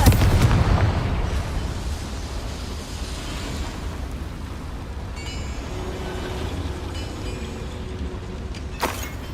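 Blasting spells exploding in the Hogwarts Legacy video game inside a mine: a loud booming burst at the start decaying into rumbling debris, then a second sharp crack near the end.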